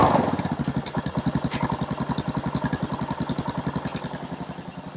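Suzuki DR650 motorcycle engine running on brake cleaner sprayed into the airbox, a close, loud, rapid single-cylinder thumping that chugs rhythmically and slowly fades as it keeps going for several seconds.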